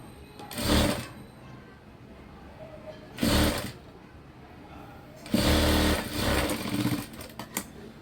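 A sewing machine edge-stitches a four-tuck fabric belt in three bursts: two short runs and then a longer one. The motor whirs loudly and close, with quiet pauses between the bursts.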